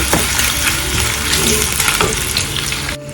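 Green chillies fry in a pan with a loud, steady sizzle and crackle, the hiss holding nearly the whole time before dropping off abruptly at the very end.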